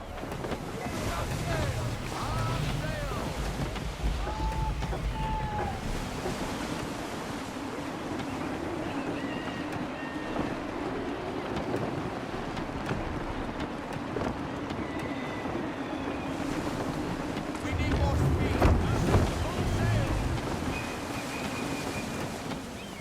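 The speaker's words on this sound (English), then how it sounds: "Gusty winds can be difficult to manage." Steady gusty wind rushes over a sailing ship at sea in Assassin's Creed 3, with water wash and creaking beneath, constant and fairly loud throughout, swelling slightly near the end, while voices talk over it now and then.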